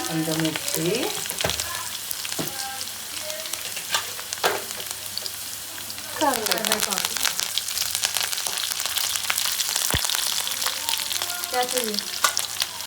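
Crushed garlic and dried red chillies frying in oil in a pan give a continuous close sizzle, with occasional scraping stirs and a sharp clink, and no one speaking.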